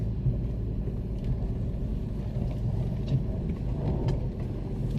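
A cheap Mercedes car with a transmission problem accelerates gently from a stop, giving a steady, close, low engine rumble that holds at an even level throughout, with no voices.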